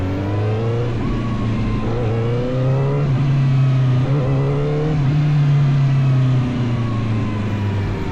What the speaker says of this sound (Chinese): 这个油门的感觉在转速比较低，你刚结合上，比如在1档你刚起步的时候，其实是有一点闯动的